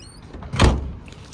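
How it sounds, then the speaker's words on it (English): A car door shuts once with a single close, heavy thump, rising briefly out of a low background and fading quickly. "I think the car door is shut."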